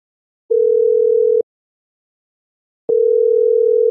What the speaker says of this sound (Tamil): இத்தனை டைம் கால் பண்ணி கால் அட்டன் பண்ணலையே.